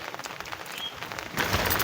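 Rain patters steadily over a rooftop vegetable garden during harvesting, a soft continuous hiss that grows a little louder near the end, with no talking.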